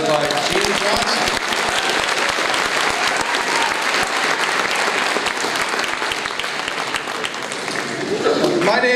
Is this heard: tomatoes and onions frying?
no